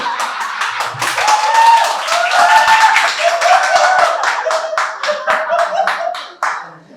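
An audience at a Gujarati comedy roast claps loudly, the individual hand claps distinct and rhythmic, while voices talk and laugh over them; the clapping thins out toward the end.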